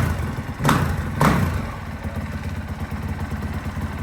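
A motorcycle engine runs steadily at close range, with two sharp throttle blips near the start that push it briefly louder before it settles back to a rough, throbbing idle.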